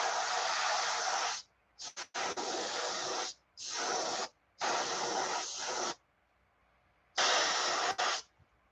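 Airbrush spraying pearl white paint onto the belly of a crappie fishing lure: five close, steady hissing bursts of varying length, separated by short silences.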